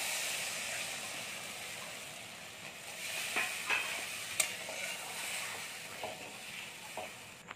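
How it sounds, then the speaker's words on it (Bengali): Spice paste for a tangra fish curry sautés in a pan with a little water, a faint steady hiss of frying with scattered scrapes and taps of a stirring spoon. "চলুন বন্ধুরা, মশলাটা আমি কষিয়ে দিই"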